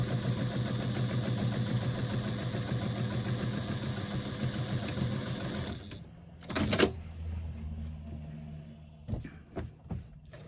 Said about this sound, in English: I can do this piece of stitching easily without kind of impacting on my zipper